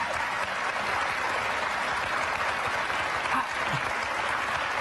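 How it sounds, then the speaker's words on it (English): Studio audience clapping on a daytime talk show, a dense steady wash of applause lasting several seconds at even loudness, with no talk over it. "Yeah, you can clap."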